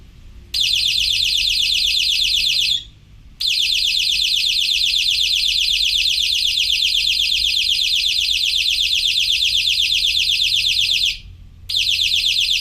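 A loud, high-pitched electronic alarm beeps in a rapid continuous pulse, breaking off briefly twice before resuming.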